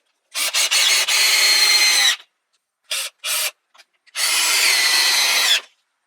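A cordless power drill drives deck screws through a stair tread during a DIY stair repair: a long whirring run, two quick short bursts, then another sustained high-pitched spin, loud and close with silent gaps between.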